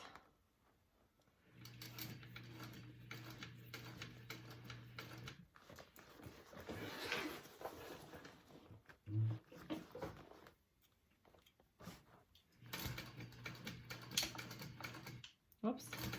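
A sewing machine stitches an X across a bag in two bursts of rapid mechanical whirring separated by pauses, with a person talking quietly in between.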